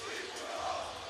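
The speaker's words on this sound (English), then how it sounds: "And the beat Punahou chants begin." At a boys basketball championship game, the St. Louis student section chants in unison, a loud, dense roar of massed voices filling the gym.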